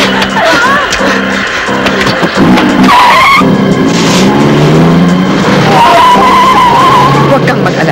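Tires screech loudly and steadily as a car speeds off during a frantic escape in a Filipino action drama, the squeal wavering over an engine roar, with raised voices in the clip.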